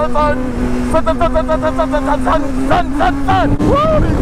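A motorcycle engine, one of a rider's bikes, drones steadily and then swells in a few short throttle revs toward the end. A voice talks over it throughout.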